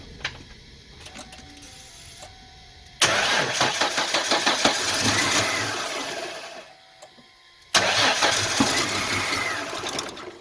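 A 1998 Ford Mustang engine after a spark plug change, cranking with a rapid whirring starter, catching into a loud roar, fading, then a second cranking and start that runs on.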